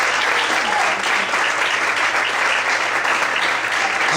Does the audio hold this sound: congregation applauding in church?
yes